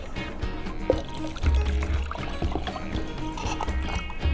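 Water is poured into a cup for a snow-themed craft, a short liquid splash and trickle, close by and moderately quiet, with no talking.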